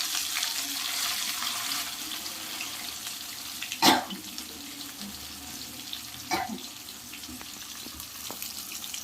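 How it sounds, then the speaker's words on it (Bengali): Food frying in a wok, a continuous hiss of oil with two sharp clacks of utensils against the pan, one loud near the middle and a softer one later. "আগে ভাজা বসিয়ে দিই, দেখি কতগুলো আটে কড়াইতে"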